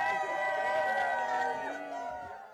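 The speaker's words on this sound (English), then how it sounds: "The second line of doctors, nurses, and hospital staff at Manning Family Children's cheer for a very special young man who's hitting a milestone today." Doctors, nurses and hospital staff at Manning Family Children's hospital cheering and whooping together for a young patient heading home, a loud crowd of mingled shouts and voices that holds steady and then starts to fade.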